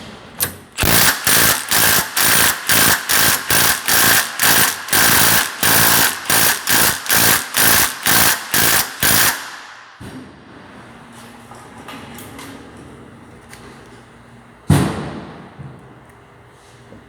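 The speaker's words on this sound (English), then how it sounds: "basically the 3/8 stubby is breaking it free." A 3/8-inch stubby impact wrench hammers a fastener loose in a loud, rapid burst of about twenty sharp impacts that lasts nine seconds, then quiet shop noise with one late thump.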